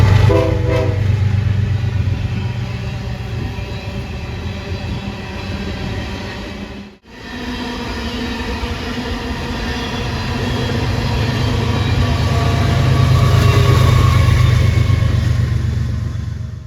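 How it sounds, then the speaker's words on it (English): A BNSF coal train with a standard locomotive lash-up rolls past on the Fort Scott Subdivision tracks, a loud, continuous rumble and roar of engines and wagons close by, with a brief dip midway. "I see the train that went through before 4001 with your standard coal train lash up"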